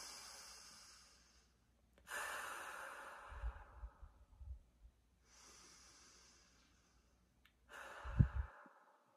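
Slow, deep breaths taken during a somatic hand exercise: two long airy inhales or sighs, each followed by a quieter exhale, with pauses in between, close and clear and without talk.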